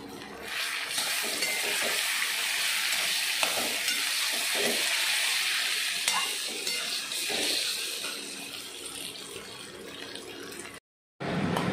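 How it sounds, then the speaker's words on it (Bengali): Soya chunks fry hard in hot oil in a pan, a steady hiss and sizzle with occasional stirring scrapes. The sound is continuous and close, then cuts off near the end. "তো এই তেলটার মধ্যেই আমি এগুলোকে একটু কড়া করে ভেজে নেব।"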